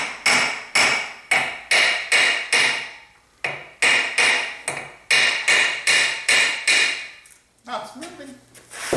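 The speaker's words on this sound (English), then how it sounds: "Gonna need a hammer for this. This is cast iron" A hammer repeatedly strikes a cast iron part during a QT10 ring teardown, giving loud, close, evenly spaced metallic blows. After a brief pause the blows resume, then quieter clatter follows at the end.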